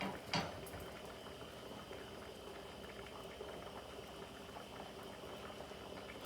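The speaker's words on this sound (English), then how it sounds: "Make sure as soon as it starts to bubble like this, then you flip it over." Gurumba dough fries in hot oil for dosti roti, giving a continuous, fairly soft bubbling and sizzling hiss with a brief louder crackle near the start.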